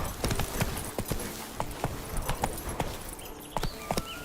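Geralt's horse Roach galloping in The Witcher 3: steady, rhythmic hoofbeats thudding close and clear over a soft background.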